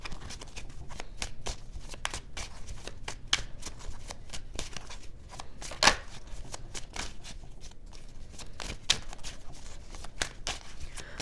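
Tarot cards are shuffled continuously at close range, a dense run of riffling flicks and snaps with a few sharper clacks, heard on their own without talk.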